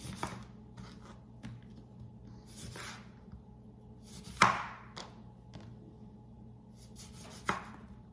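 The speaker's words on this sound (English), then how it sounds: "we're gonna slice our lemons, same way" A knife slicing lemons into thick slices on a board, a few soft sparse cuts spread through quiet kitchen noise, with two sharper, louder chops standing out near the middle and end.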